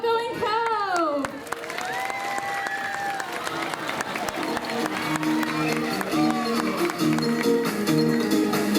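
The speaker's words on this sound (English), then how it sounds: "the sound of your applause means that they're doing a great job" Audience applause and cheering at a sea lion show, a dense wash of clapping that runs throughout under sweeping music and tonal effects.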